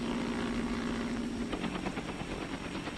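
Military aircraft, likely a helicopter, flying over a convoy route in Vietnam, a steady droning rotor and engine hum that holds throughout, with a rhythmic chopping texture emerging toward the end.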